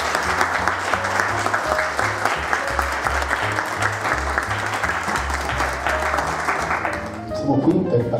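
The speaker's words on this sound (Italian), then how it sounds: "Roberta Camerino e Veronica Ferretti, che accoglierei con un caloroso applauso" Warm audience applause at an Italian art event on art and fashion in Venice, steady and full for about seven seconds before thinning into a few scattered claps and murmurs at the end.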